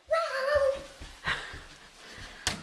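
A small child imitates a cat's meow: one drawn-out, wavering meow close to the mic, followed by soft rustles and a short sharp knock.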